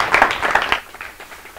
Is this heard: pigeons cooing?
no